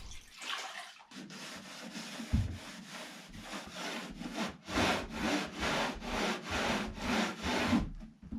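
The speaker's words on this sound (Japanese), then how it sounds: "軽くね、拭き掃除をしておきます。" Repeated back-and-forth rubbing strokes wipe a sliding door rail in a house under renovation, a soft, close, rhythmic swishing of about a dozen passes growing steadier toward the end.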